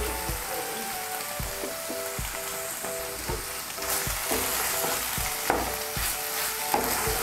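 Sliced radish stir-fried in a pan with a little raw mustard oil, poppy seed and mustard paste, a continuous sizzle broken by repeated scraping strokes of a spatula, close and unaccompanied by talk.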